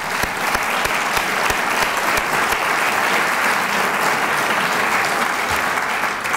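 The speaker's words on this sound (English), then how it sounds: "So can we just give him a round of applause?" An audience at a scholarship luncheon gives a sustained round of applause, dense and even clapping filling the room from start to finish.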